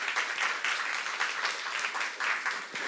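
A youth-group church congregation claps together during a sermon, with crisp, fairly rhythmic applause that pulses steadily throughout.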